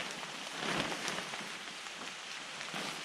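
Steady rain patters through woodland, a dense continuous wash of drops on leaves and a poncho tarp, swelling slightly then holding even, with no voices.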